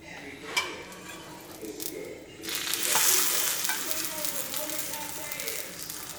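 Ham, cheese and tomato sandwich frying in butter in a pan, a steady sizzle that swells louder midway, with light clinks of a utensil against the pan.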